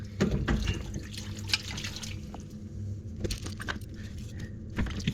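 Water runs steadily through pipework during a plumbing job at a low point, a continuous close wash with faint metallic clinks and a few brief knocks over it.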